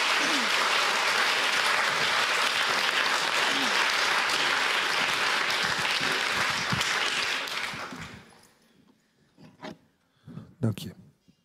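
Loud, sustained applause from an audience welcoming two filmmakers to the table at a film discussion evening, a thick wall of clapping that fades out near the end, followed by a few knocks and soft speech.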